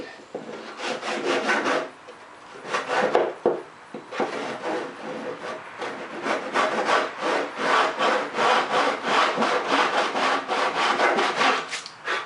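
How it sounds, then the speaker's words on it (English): A hand saw cuts through wood held on a bench hook, sounding as a close, loud run of rhythmic rasping strokes with one brief pause, then steady back-and-forth sawing with no talk. "That's so my saw can cut down in."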